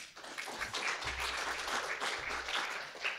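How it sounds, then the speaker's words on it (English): Audience applause at a Python data science conference following a talk on machine learning model versioning, steady dense clapping filling the whole stretch at moderate loudness with no talk over it. "Let's give him one more round of applause."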